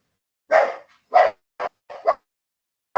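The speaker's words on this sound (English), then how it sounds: "my dogs are barking" Several house dogs bark loudly nearby in five or six sharp, separate barks with short gaps between them, one pair coming in quick succession, and no talk over them.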